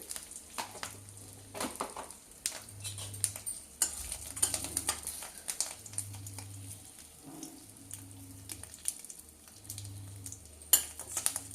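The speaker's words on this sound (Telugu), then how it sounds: "తగినంత పసుపు, తగినంత కారం వేస్తున్నానండి." Turmeric and chili powder going into a frying pan while cooking chickpeas as a temple offering, a faint sizzle with scattered clinks and stirring scrapes over a low, pulsing hum, no talk.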